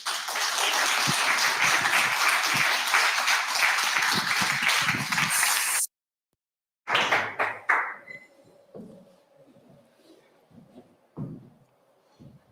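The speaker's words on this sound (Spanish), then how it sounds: "Un aplauso, por favor." Applause from an audience at a book presentation rolls on for several seconds, then cuts off abruptly, followed by a few scattered claps, thuds and room clatter.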